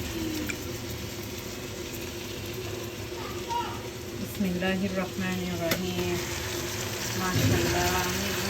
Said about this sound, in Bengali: এটা এবার নিজে নিজেই কিছুক্ষণ কষানো হোক